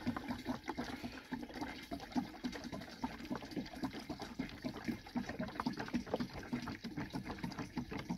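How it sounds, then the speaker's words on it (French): Water runs steadily into containers, about 20 to 30 litres, with a continuous gurgling, splashing flow that stays even and moderately close throughout. "le plein d'eau est fait. J'ai pris 30 litres d'eau"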